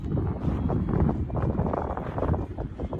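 Steady wind rushes and buffets a microphone at a hilltop fort, a continuous low roar with gusty swells and no voices.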